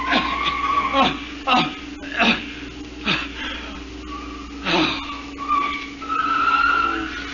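Car tires skidding to a stop in an old radio drama, with several sharp screeching bursts in close succession over a constant engine hum and background music.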